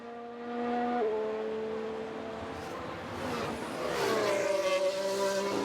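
Race cars in the F1 Manager 22 video game scream past, high engine whines held and then shifting pitch as one car drops and another rises, loud and close with tyre noise.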